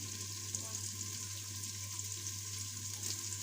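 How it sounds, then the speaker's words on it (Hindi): White chickpeas fry in a pan with a steady, close, even sizzle throughout, with some light stirring. "अब इसमें चने को अच्छी तरह से डाल के भूनेंगे, चनों को इसमें डाल लेंगे अब"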